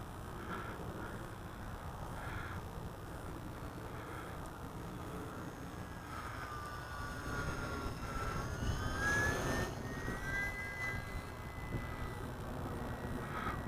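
A Timber UMX radio-controlled model airplane flies overhead, its small electric motor making a steady, fairly faint whine that swells and shifts in pitch as it passes, heard alone with no talk.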